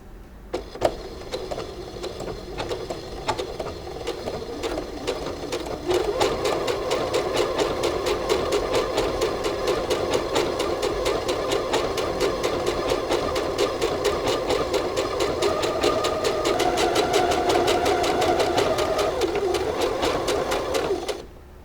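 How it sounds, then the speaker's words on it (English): A sewing machine stitches a seam on a pair of beginner-project shorts. After a few seconds of quiet handling it runs as a steady, close mechanical whir with a rapid needle rhythm, holding until a sudden stop at the end. No one speaks. "We're going to lower down the presser foot. And we're going to begin our stitch."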